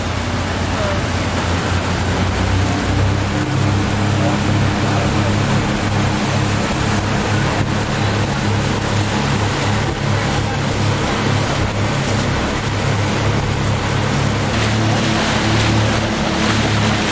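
A river cruise boat motors along a creek at sunrise, with a loud, steady engine drone and rushing water wash running unbroken throughout, close and continuous.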